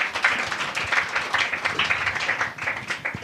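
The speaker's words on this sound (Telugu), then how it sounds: "గట్టిగా చప్పట్లు కొడదామా?" An audience claps loudly and continuously in a church gathering, dense rhythmic hand claps close and full throughout, with no talking over them.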